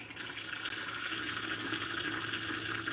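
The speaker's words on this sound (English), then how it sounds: "Fill the cup." Water pouring into a self-stirring cup, a steady rushing, hissing fill lasting a few seconds, moderately close and unbroken, with no voices over it.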